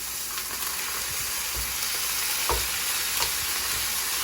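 Ground beef fries in a pan with a constant bright sizzle, and a spoon occasionally scrapes and knocks as the meat is stirred and broken up. No voices are heard.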